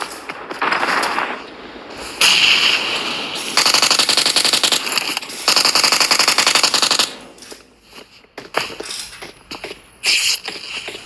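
Automatic gunfire in a video game comes as long, loud rapid bursts of shots, several sustained volleys separated by short pauses, with sharper isolated shots near the end.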